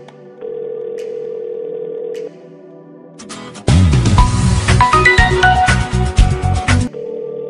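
A mobile phone call abroad heard through the handset: a steady dial tone, then a louder burst of dialing and connection tones with clicks, and the tone returns at the end, with no talk.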